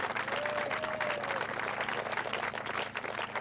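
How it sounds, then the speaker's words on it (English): Crowd applause at a 1984 AMCA motorcycle championship podium ceremony, a dense, steady wash of clapping from a large outdoor audience that holds for the whole stretch, with a faint whistle early on. "You'd like to give them a round of applause for their efforts today."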